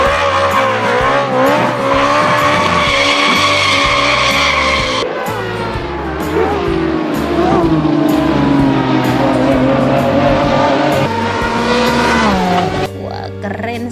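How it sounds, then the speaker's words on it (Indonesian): A toy Lamborghini race car sound effect plays loud, electronic-sounding engine revs with screeching, skidding tires, shifting pitch over several seconds before it stops. "kalau ini namanya mobil Lamborghini atau mobil balap."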